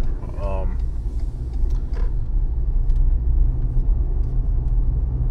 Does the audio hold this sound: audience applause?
no